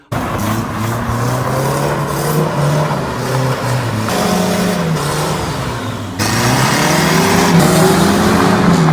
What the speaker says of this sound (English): That's the first drive of the Datsun Ute in 20 years.